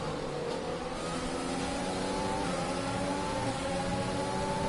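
A Ferrari Formula 1 car engine in the F1 2020 video game, a steady high whine that holds for several seconds at constant loudness, with slowly shifting harmonic tones and no talking.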